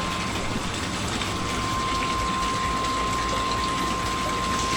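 A submersible aquarium water pump runs under test, giving off a steady, even hum with a constant whirring hiss and a faint tonal whine, unbroken throughout and fairly quiet.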